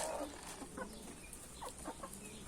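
Chicks and pigeons on a farm give soft, scattered clucks, peeps and coos over a low steady background, nearby and fairly quiet, with no talking.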